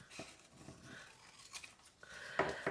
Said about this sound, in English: And then trim this side a little bit.